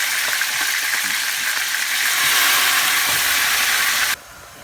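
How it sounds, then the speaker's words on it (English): Chicken frying in a hot frying pan, a loud continuous sizzle and hiss close up that swells slightly midway, then cuts off abruptly near the end. "And we're going to cook all the chicken in the frying pan."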